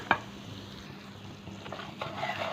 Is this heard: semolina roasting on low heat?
yes